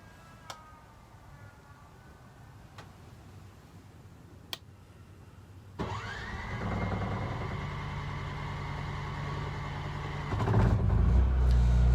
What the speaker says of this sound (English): I don't know if you can hear it, but the gen's fired up